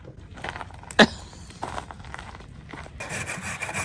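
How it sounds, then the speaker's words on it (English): Potatoes are rubbed across a grater for winter camp cooking at a campground, giving raspy scraping strokes with one sharp knock near the start and busier, denser grating toward the end. "So I've started grating my potatoes"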